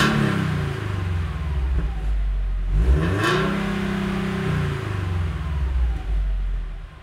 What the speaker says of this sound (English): We're going to do some, kind of just revs and stuff.